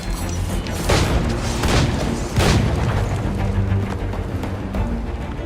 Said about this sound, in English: Here, you can see Edward utilizing his dual cutlasses and guns, combining them in counters and combo attacks.